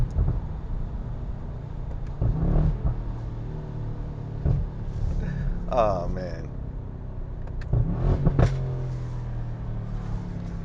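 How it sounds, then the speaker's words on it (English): A 2019 Mercedes-AMG S63 Cabriolet's exhaust rumbles deeply while driving, with a couple of brief revving swells rising above the low drone. Someone speaks briefly over it. "that exhaust just sounds incredible"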